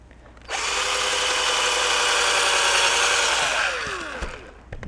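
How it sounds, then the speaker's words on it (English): A power drill whirs loudly and steadily for several seconds while prepping a remote-starter wiring harness on a bench, then winds down near the end. "I got the drill on the other end."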